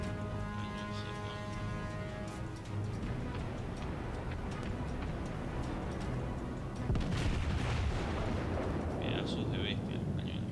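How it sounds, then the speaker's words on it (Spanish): Heavy naval cannon fire from a South Carolina battleship in World of Warships, with dense booming blasts and rumble filling the whole stretch and swelling louder near the end amid continuous battle noise. "para que ustedes vean cómo es el disparar de este cañoncito"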